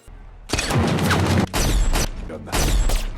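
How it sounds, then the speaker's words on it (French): Gunshot sound effects: several loud, close blasts in quick bursts, each with a booming, crackling tail, and no talking over them. "Le coup de feu est souvent un des tout premiers effets qu'on veut faire."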